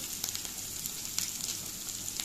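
Pasta ingredients sauté in a hot pan, giving a steady close sizzle with light crackles and a few soft stirring taps, with no voices.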